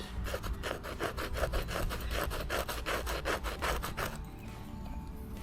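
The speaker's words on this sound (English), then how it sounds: "So just scrape up the surface layer of this." A tool scrapes rhythmically across the surface layer of damp wood in a forest glade. About fifteen quick, regular rasping strokes come in close, then the sound eases into a softer rubbing.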